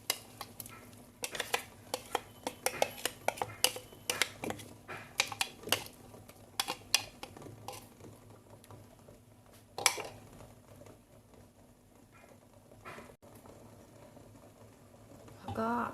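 Blended curry paste goes into a pot of boiling water and is stirred, with clinks and scrapes of a utensil against the pot, busiest early on, under a voice.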